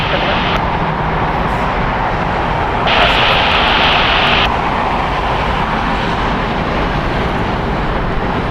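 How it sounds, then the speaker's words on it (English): A Southwest Airlines Boeing 737 MAX 8 jet departing, a broad steady engine roar that swells and holds loud throughout. "Departing US Southwest Airlines Flight 539 going to San Jose. It's a Boeing 737 MAX 8."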